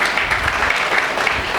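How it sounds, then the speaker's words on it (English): A steady, loud round of applause from students, a dense continuous patter of many hands with no pauses or speech over it. "They deserve a big round of applause."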